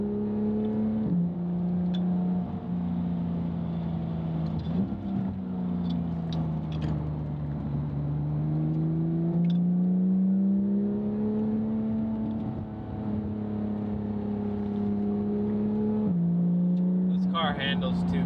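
Porsche GT3 driving a Malibu canyon road, heard from inside as a smooth engine drone whose pitch rises and falls with gear changes and throttle, steady and close, with someone talking over it.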